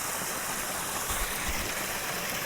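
A small creek flows in a steady, even rush of water with no breaks and no voices, heard up close and fairly quiet.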